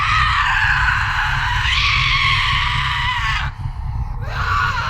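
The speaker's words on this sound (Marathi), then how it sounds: "अचानक हवेतून एक किंचाळी आली आणि प्रिया तिथे दिसली." A long, loud scream sound effect in a horror story, a wailing shriek that holds and shifts pitch for several seconds, breaks off briefly and then returns, with no talk over it.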